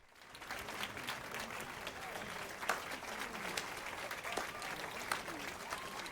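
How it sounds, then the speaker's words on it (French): Crowd applause in the video game The Witcher 3, a steady, fairly quiet wash of many hands clapping that continues evenly throughout. "J'arrive à applaudir avec des gants, c'est impressionnant ça."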